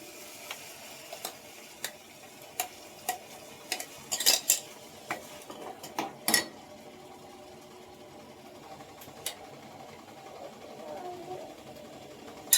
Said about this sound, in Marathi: पालक टाकते वाटलेली